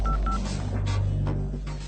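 Tones of a telephone being dialed, a short run of electronic keypad beeps in a dramatic film scene, heard clearly over a low background hum.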